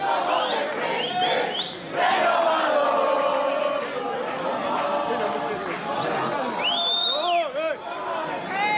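A large crowd cheers and chants for the Frente Renovador, loud and continuous, with shouts and whistles rising over the roar.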